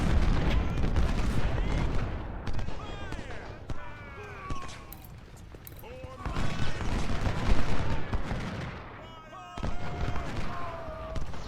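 Musket volleys crackle in the Ultimate General: Civil War game at the Chantilly battle, dense rattling fire rolling steadily with booming bursts and crackling trails, loud and continuous, with a voice speaking over it.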